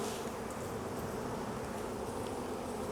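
Honeybees feed on opened honey cappings, a dense, steady buzzing swarm heard up close and continuous, with no voices.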